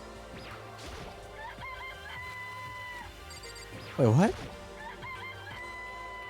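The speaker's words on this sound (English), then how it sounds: "Oh my god, they're actually chickens." Chickens in the Danganronpa: Trigger Happy Havoc video game, with a loud squawking crow bursting out near the end over steady game music, while a voice talks briefly.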